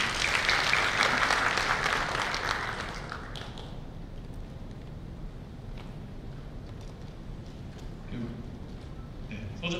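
Audience at a bank's economic outlook seminar claps for an interpreter, a dense burst of applause for about three seconds that fades away into quieter room noise.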